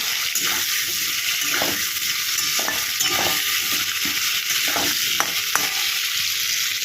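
Potatoes and cauliflower fry together in oil in a wok, giving a steady, close sizzle with intermittent scraping clatter from stirring throughout.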